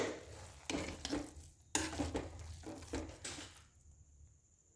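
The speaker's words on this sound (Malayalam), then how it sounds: "ഇപ്പോൾ നമ്മൾ ഇനി ഒരു സ്പൂൺ കൂടെ നെയ്യ് ഒഴിച്ചിട്ട് നല്ലോണം ഇളക്കുക." A spoon stirs ghee into soft cooked dal rice in a pot, making a series of close, rhythmic squelching scrapes in uneven strokes that fade toward the end.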